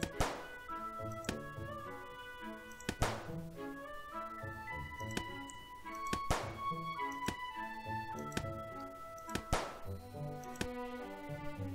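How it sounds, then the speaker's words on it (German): Balloon-shooting minigame in the video game My Time at Portia, with a series of sharp thunking hits and pops spread over a steady backdrop of tonal game music, several loud impacts standing out. "Ja, klar, wir schießen auf die Balloons."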